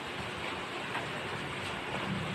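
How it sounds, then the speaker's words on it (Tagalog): Steady rain falls outdoors as a dense, even hiss with a low rumbling undertone, continuous and unbroken, with no voices. "Medyo humina po yung ulan. Humihina po siya tapos lalakas."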